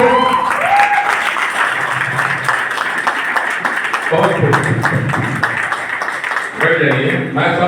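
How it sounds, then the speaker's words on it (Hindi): An audience at a meeting in Padampur gives a sustained round of applause to welcome new members, steady and close, with a voice speaking over it. "इनका भव्य स्वागत करें तालियों से।"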